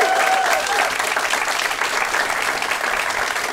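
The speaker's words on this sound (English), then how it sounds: "Could we have a big, massive round of applause for the Glee Club?" An audience at a comedy venue claps and cheers in a dense, steady roar of applause throughout, with a few whoops rising above it, heard from within the room.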